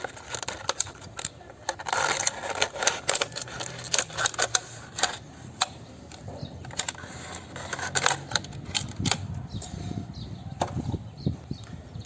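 Scissors snip and crunch through a stiff plastic bottle in a run of sharp, irregular clicks and crackles, close up and steady for several seconds.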